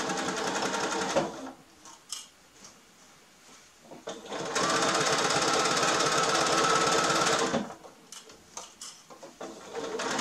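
Sewing machine stitching slowly through the thick layered seams of a quilted Christmas stocking cuff, running in loud steady bursts with a long continuous stretch in the middle and brief pauses between.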